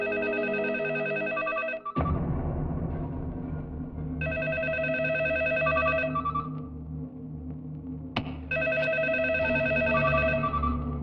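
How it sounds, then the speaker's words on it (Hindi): A telephone rings in a dubbed Hindi action film, loud repeated electronic ring bursts sounding in regular cycles over a dense, steady background of music and noise. "फोन उठाओ, उठाओ।"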